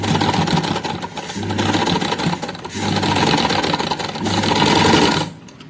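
Sewing machine stitching a kameez strip runs in four steady bursts of rapid mechanical whirring, each pausing briefly, close and loud, with no speech, before stopping at the end.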